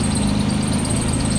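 A 1987 Nissan Z31 engine, newly started after more than three years, idles steadily and close by with an even, rumbling drone throughout the short stretch.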